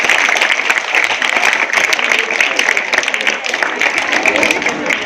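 An audience at an award ceremony gives sustained, loud applause for an award recipient, a dense continuous patter of clapping lasting the whole time.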